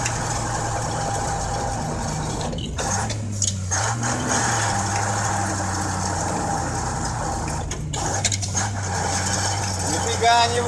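A Ural logging truck engine heard from inside the cab as it accelerates, giving a steady, loud low drone whose pitch climbs and shifts as the revs build, continuous throughout.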